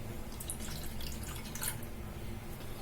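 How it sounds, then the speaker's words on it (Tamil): Water trickles and drips into a pan of sugar while poha laddu is being made, a soft, close splashing that runs steadily. "இந்த ரெண்டும் சேர்த்த பிறகு ஒரு 3/4 கப் அளவுக்கு தண்ணி சேர்த்துக்கலாம்"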